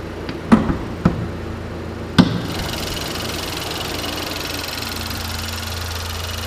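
A turbocharged 2013 Buick Regal engine idles under the open hood, a steady low hum with faint whine, preceded by three sharp knocks or clicks close by in the first two seconds.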